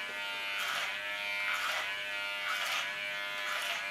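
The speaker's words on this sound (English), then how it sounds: "And I make the side shave with a clipper over comb technique" Electric hair clippers buzz up the side of a head in a clipper-over-comb cut, the close, steady hum swelling with each of about four upward strokes and easing between them.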